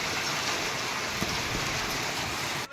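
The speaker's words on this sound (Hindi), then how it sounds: "बारी बारी बूंदाबांदी तो हो ही रही है" Light drizzle falls steadily outdoors at a Ramlila pandal on a cold night, a soft continuous hiss of rain with faint patters, even in level from start to finish.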